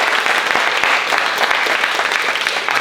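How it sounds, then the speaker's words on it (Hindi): Loud, dense audience applause for a theatre actor fills a Marathi stage play venue, steady clapping from a crowd sustained throughout without a break. "तो चिराग सर के लिए एक बहुत अच्छी ताली होनी चाहिए।"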